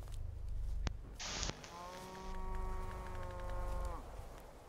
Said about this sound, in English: Is that a cow?